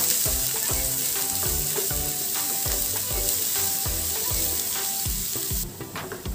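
Ground masala paste sizzling and crackling in hot oil for a mutton dish, a continuous close fry with soft scraping stirs and light spattering throughout.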